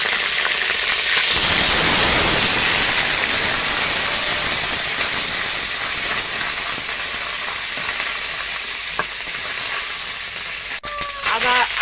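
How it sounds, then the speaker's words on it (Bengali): Ginger paste with five-spice hits hot oil, bursting into a loud hiss that gradually settles into a steady sizzle, with a few clicks near the end. "আদাটা ভেজে নিয়েছি।"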